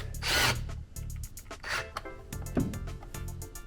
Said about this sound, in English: you want to use this drill to get it started